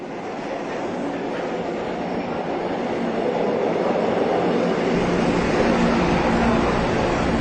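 A subway train running underground makes a loud, continuous roar and rattle that swells slightly toward the end, heard alone without any voices.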